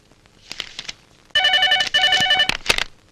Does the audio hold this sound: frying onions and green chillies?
no